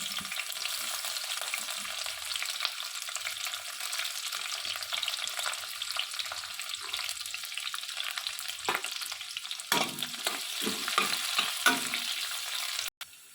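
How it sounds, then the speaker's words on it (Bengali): Capsicum, onion and chili fry in hot oil in a wok for street-style Kolkata egg chowmein, giving a steady, close hiss and crackle with occasional stirring scrapes and clatter, without any talk. "এবার এই তেলের মধ্যে আমি প্রথমে ক্যাপসিকাম পেঁয়াজ আর লঙ্কাটা দেবো"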